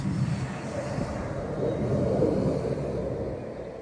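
A Rafale fighter jet performs 360-degree turns at an air show with the Patrouille de France, a steady broad roar that swells slightly mid-way and holds, heard from a distance without talk.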